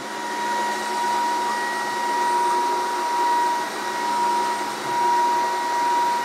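A Dreame H14 Pro wet floor vacuum makes repeated passes along the base of a wall, giving a steady loud motor whine with a faint, slowly swelling rhythm as it moves back and forth.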